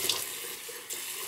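Hot water runs steadily from a sink tap, a close, even hiss with a brief shift in flow near the end, and no talking.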